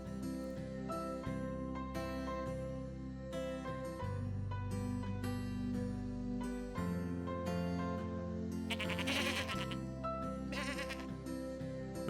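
Sheep bleat in an animated Bible story about Moses tending Jethro's flock, several wavering calls rising over a loud, continuous music score.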